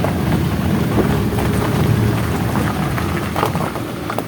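Steady rain falls outdoors at a former mining site, a dense, even wash of patter with no voices, holding at a constant level throughout.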